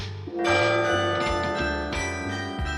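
A large bell tolls in long, ringing strokes that overlap, each new strike landing before the last one fades. The sound is loud and sustained, with no talk over it.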